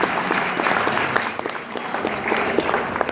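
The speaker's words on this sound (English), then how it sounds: "give the crew a round of applause for being awesome" Convention audience at an anime con panel applauds the crew, a steady wash of clapping from many hands with a few sharper claps standing out.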